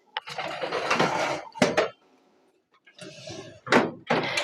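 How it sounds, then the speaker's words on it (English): A quiche dish is set into a home oven and slid in, making several close clattering knocks of cookware on the rack and a thump, followed by a short quiet pause and then more bumps and a closing clunk. "And then I'm going to put this in the oven gently. And then push that in."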